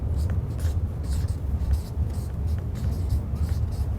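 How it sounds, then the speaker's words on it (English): A pen scratches across paper in short, irregular strokes, set against a steady low rumble of background noise at a moderate level. "I'm going to write it down"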